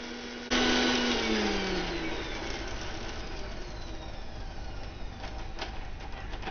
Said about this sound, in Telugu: మిరపకాయలను మిక్సీ పట్టుకుంటున్నా